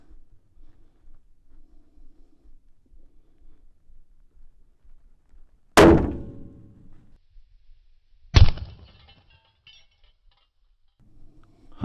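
Two sharp rifle shots crack out roughly three seconds apart on a long-range range, each a loud, abrupt report with a short decaying tail, sent at a steel plate 600 yards out with 176 grain Hornady A-Tip rounds.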